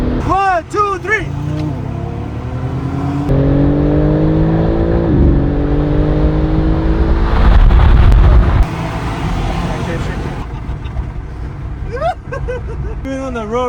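A new BMW M5 and a BMW M4 launch side by side in a drag race, engines roaring and climbing through gears with loud rising whine, heard from inside a car as people talk and shout.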